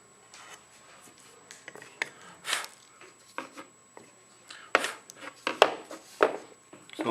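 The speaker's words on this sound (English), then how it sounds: "it's just a gouge through here with a high-sided gouge, number 11" A number 11 high-sided gouge carves the profile of a wooden pitcher, giving a series of short, scraping, rasping cuts at an irregular pace, close and moderately loud, with quiet gaps between strokes.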